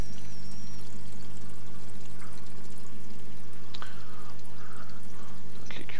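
Water runs down the drain pipe of a reef aquarium, a soft continuous trickle and pour over a steady low pump hum, with faint gurgles and drips near the end.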